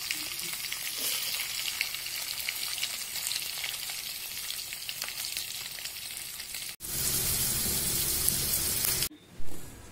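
Stuffed masala bitter gourd sizzles steadily as it fries in hot oil, a loud crackling hiss that shifts abruptly to a louder, fuller sizzle partway through and then cuts off with a brief thump at the end.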